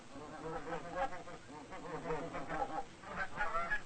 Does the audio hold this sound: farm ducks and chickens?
yes